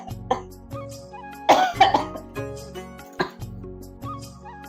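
A person coughing repeatedly, with several harsh bursts including a heavy cluster in the middle, heard up close over a steady low background hum.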